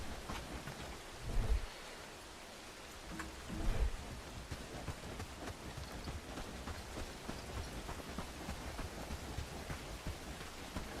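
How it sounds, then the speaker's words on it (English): Steady rain falling in the medieval video game Bellwright, a constant hiss of raindrops with a couple of brief low thuds early on, heard alone with no talk. "Oh, now it's raining on us."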